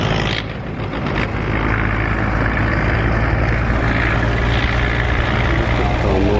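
Heavy engine drone from a large Belarus MTZ 800 tractor on the move, loud and continuous at close range, with a brief dip near the start and then a constant rumble.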